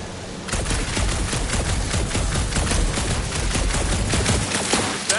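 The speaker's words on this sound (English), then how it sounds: "A couple of shots should bring it down." Rapid bursts of gunfire aimed at a gunked-up reactor in the game Guardians of the Galaxy, a loud, dense volley of shots that starts after a brief pause and keeps going for several seconds.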